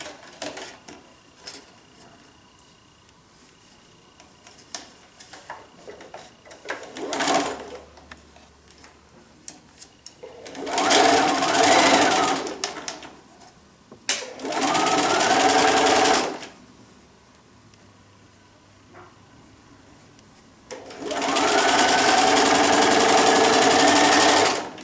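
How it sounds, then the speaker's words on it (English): A sewing machine stitches a long seam along a quilted table runner in three sustained bursts of steady mechanical whirring, with quiet pauses and faint handling between runs. "then we're going to sew down this one long length"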